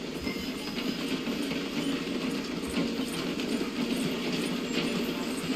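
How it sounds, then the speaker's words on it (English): A steam-era train in Red Dead Redemption 2 rolls slowly through a station, its wheels and couplings giving a continuous mechanical clatter and rattling at moderate volume. "The train is slowing down to go through the station."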